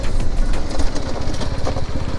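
A BMW G 310 GS Rally motorcycle engine rumbling and pulsing under braking, loud and close with a fluctuating low throb.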